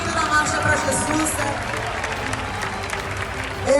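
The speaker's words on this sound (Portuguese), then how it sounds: "Vamos recebê-los também com uma salva de palmas" A crowd at the March for Jesus in Brazil applauds to welcome guests, dense clapping and crowd noise sustained throughout, with voices mixed in over the applause.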